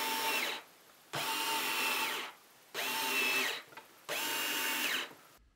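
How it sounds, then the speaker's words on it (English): A power drill drives screws through new hinges into a wooden sketchbox easel in four short whirring bursts separated by brief pauses, close and clear with no speech. "then simply screwed the new hinges into place."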